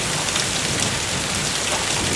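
Continuous heavy rain during the rainy season, a dense, even hiss of drops pattering on surfaces with no letup and no voices.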